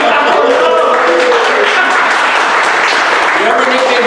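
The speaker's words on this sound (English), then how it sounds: "Shout out for clapping for Nick Hammond" A live podcast audience in Hawaii claps for a guest, a dense patter of hands with voices talking over it throughout.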